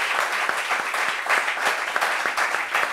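An audience at a French discussion show claps for a guest, a steady burst of moderate applause with distinct individual claps, lasting a few seconds without talk.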